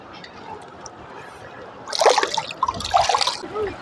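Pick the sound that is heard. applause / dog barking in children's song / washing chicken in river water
washing chicken in river water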